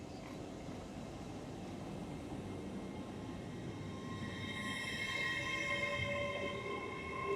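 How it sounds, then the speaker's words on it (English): An LNER Azuma train on a York to London King's Cross service pulls out of Retford station on the East Coast Main Line, a rising electric whine and rolling rumble with faint wheel squeal. "LNER Azuma service from York to London King's Cross."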